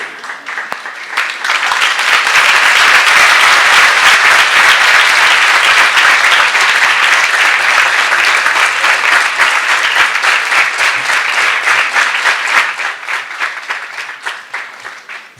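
A large audience at a spiritual talk breaks into loud, sustained applause that carries on steadily for about fifteen seconds before tapering off, with no voices heard over it.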